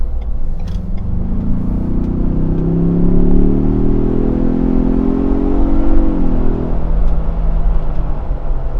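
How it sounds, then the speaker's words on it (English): A 2024 Ford Bronco Sasquatch four-cylinder engine revs steadily, its deep tone climbing and holding for several seconds before settling back, loud and close with no voices. "This 4-cylinder actually sounds really decent. I'm going to demonstrate here."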